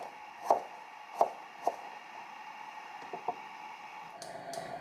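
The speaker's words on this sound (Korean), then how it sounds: "파이에 들어갈 사과를 썰어줄 건데요" A knife slices two apples into pieces about 0.3 cm thick for an apple pie, giving a few sharp, separate cuts spaced unevenly, close and fairly quiet, with no voices.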